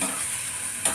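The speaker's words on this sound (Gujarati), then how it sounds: "ઓળાને વઘારી દીધો છે" Kathiyawadi olo, a traditional dish seasoned with Kashmiri chili, is tempered in hot oil and gives a brief, continuous sizzling hiss with a sharper crackle at the end.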